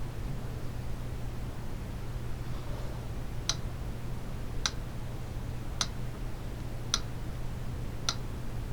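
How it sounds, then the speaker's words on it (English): Steady ticking, five sharp regular ticks about a second apart, faint against a quiet hiss and low hum, with no other sounds. "Just notice the ticking in the background."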